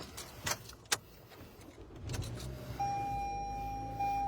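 The key of a 2023 Toyota RAV4 jangles in two sharp metallic bursts inside the car, followed by a steady tone and a low hum as the vehicle's electronics come on.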